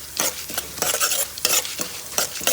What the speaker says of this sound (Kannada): ಸ್ವಲ್ಪ ಜೀರಿಗೆ, ಕರಿಬೇವು, ಬೇಳೆ, ಉದ್ದಿನ ಬೇಳೆ ಜಸ್ಟ್ ಸ್ವಲ್ಪ ಫ್ರೈ ಮಾಡ್ಕೊಳ್ತೇನೆ